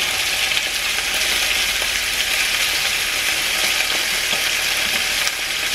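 Butter sizzles and crackles steadily in a frying pan over medium heat while a chicken breast dish is being made, with a dense, even fizz and no talking.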